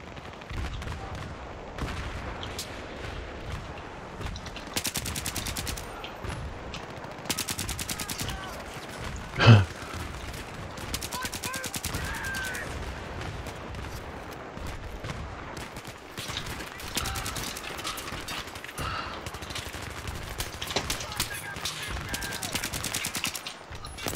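Suppressed SCAR-L rifle fire in Battlefield 3, a dense run of rapid muffled shots and bursts with game effects throughout, one sharper loud bang near the middle.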